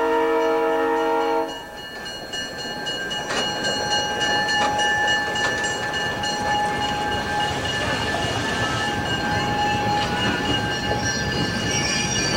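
An Adirondack Centennial Railroad train passes close by in 1992 with a steady rumbling roar of wheels on rails, a long horn blast at the start and high squeals from the wheels throughout.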